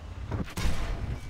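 A Type 68 tank's cannon fires once in World of Tanks, a sharp blast with a booming low tail over steady engine rumble.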